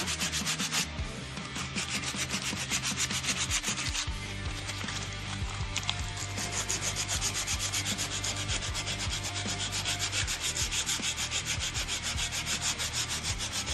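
A 1911 pistol is hand-sanded with 100 grit abrasive in steady, rhythmic back-and-forth strokes, loud and close, with no talking.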